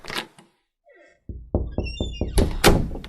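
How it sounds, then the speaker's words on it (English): A few clicks and a faint rattle, then a series of evenly spaced knocks or thunks, like a door being handled and opened nearby. "I opened the door."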